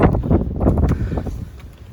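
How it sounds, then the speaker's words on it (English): Gusting wind in a snowstorm buffets the microphone with loud, low rumbling bursts that fluctuate and ease off toward the end. "It's windy."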